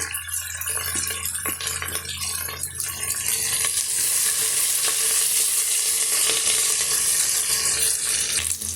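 Ingredients for a village-style brinjal gravy sauté in a hot pan, a steady close sizzle with occasional scraping stirs that grows fuller and more continuous toward the end.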